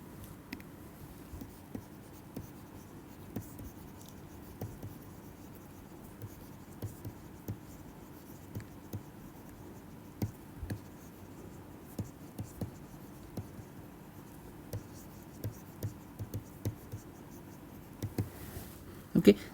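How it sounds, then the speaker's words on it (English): Chalk or marker strokes on a classroom board during a lecture on material properties come as faint, scattered taps and short scratches spread across a long, quiet stretch. "Let me just write it completely."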